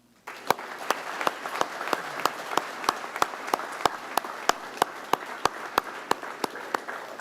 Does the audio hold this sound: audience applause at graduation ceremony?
yes